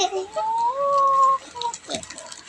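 A hen gives a drawn-out call followed by a few short clucks, close and clear, with brief human voices nearby.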